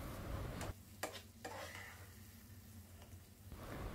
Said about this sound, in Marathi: शिरा चांगला एकजीव करून परतवून घेऊ